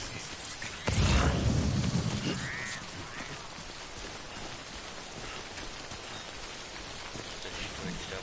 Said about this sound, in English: Or it's just the rain, even though it's damaging my stuff.